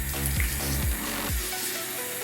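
Tap water runs steadily while a makeup brush is rinsed under it, a close, continuous splashing with a few gurgling shifts in the flow and no voices.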